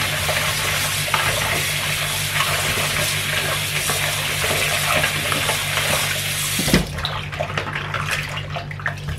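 Pickling ginger softened in salt is washed under a running tap, a steady loud rush of water with splashing that drops and turns sparser near the end, no voices.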